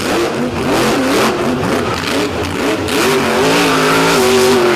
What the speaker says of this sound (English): Really RPM in that motor.